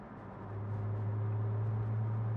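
Lotus Emira V6 sports car engine heard from inside the cabin with the windows up, a steady deep drone that swells slightly after the first half second and holds at a constant loud hum.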